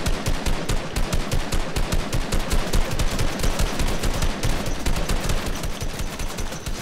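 Rapid automatic gunfire from a Fortnite Team Rumble match, dense bursts of shots rattling continuously throughout, loud and close with no pauses.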